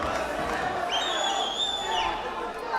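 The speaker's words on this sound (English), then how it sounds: "The crowd is going crazy here." A crowd at a Brave MMA fight roars and cheers steadily through a ground-and-pound exchange, a dense wash of voices with a few shrill whistles rising above it.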